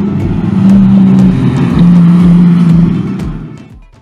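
A 1996 RUF CTR2 lightweight sports car drives close by with a loud engine note, two sustained revving pulls separated by a short break, fading at the end.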